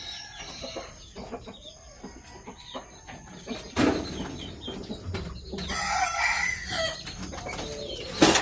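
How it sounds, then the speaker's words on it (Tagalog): Native backyard chickens crowing and clucking, several birds calling close by with a loud crow rising midway and another near the end over scattered clucks. "Tapos ito, yung mga native chicken natin, no?"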